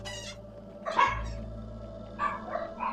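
Pet dog Cookie gives a fairly faint bark, followed by a few quieter yips and whimpers a little later, heard indoors over a steady low hum.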